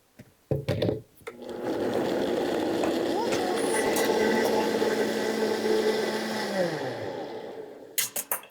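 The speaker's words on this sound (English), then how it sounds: "So we're gonna blend this up." A kitchen blender whirs loudly for about five seconds while blending homemade curry paste, its motor pitch dropping as it winds down, with brief clatter and handling noises before and after.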